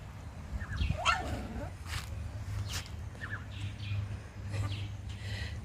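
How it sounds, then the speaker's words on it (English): Puppies in a Kenyan village during the rainy season give short, high yelping barks scattered across a low background hum, fairly close and intermittent. "They've started barking as well."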